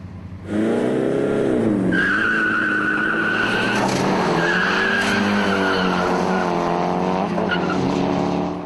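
A race car's tires squeal and skid as its wheels slip, a loud sustained screech riding over the revving engine and running almost the whole time, with pitch sweeping up and down.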